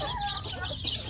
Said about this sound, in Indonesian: anak ayam kampung yang baru menetas